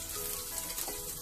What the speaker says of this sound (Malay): Masak sampai cili ni pecah minyak.